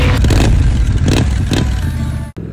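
A Triumph Scrambler 900 motorcycle engine revs loudly while riding, rising and falling in several surging bursts with wind noise, before cutting off abruptly near the end.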